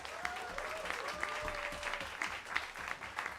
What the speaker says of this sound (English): that sound guy, deserves your applause